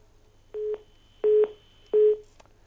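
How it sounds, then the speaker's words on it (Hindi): A telephone line gives three evenly spaced, loud beeps after a caller's line disconnects, each about a quarter-second long, over a quiet low hum and with no talking. "चलिए, फोन कट गया उनका"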